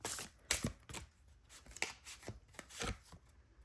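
Tarot cards are shuffled and handled close by, a run of quick papery riffles and slaps in uneven bursts, quiet overall with no speech.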